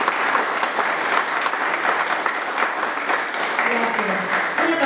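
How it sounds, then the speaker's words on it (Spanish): An audience at an award ceremony claps steadily, dense and fairly close applause sustained throughout at an even level. "les pido un fuerte aplauso para él, Wilmer Guaripán Aguilar."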